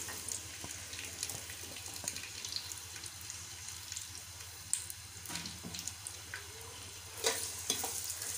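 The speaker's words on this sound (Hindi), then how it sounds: "प्याज अपनी फ्राई कर लेते हैं।" Onions frying in oil for a beef Sindhi biryani, a soft continuous sizzle with occasional stirring clinks and scrapes, fairly quiet and close.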